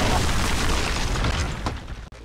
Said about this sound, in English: One hell of an explosion.